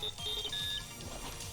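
A high, thin beeping alarm tone in the Digimon Story Cyber Sleuth video game, a few steady electronic pulses up close over busy game sounds.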